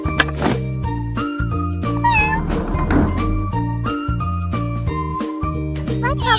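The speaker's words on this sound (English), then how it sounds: "Little kitten is stuck in a tree!" A kitten stuck in a tree in a kids' video game lets out a few short, high meows over bouncy game music with jingling chimes.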